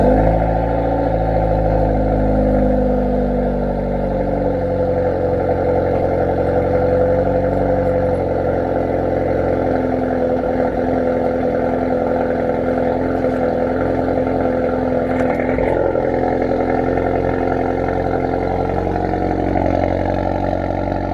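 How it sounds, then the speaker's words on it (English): Hyundai Veloster N running on a cold start through a newly fitted exhaust, a close, loud, deep and steady idle drone that holds evenly throughout with no talking. "So this is gonna be a cold start with the new exhaust."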